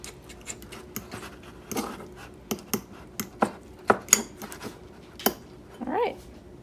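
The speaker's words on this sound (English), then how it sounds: "take my fork and just start to mix that together" A fork works cream cheese topping for pumpkin spice bagels in a bowl, giving a string of sharp clicks and scrapes against the bowl, irregular and close, with brief bits of voice between them.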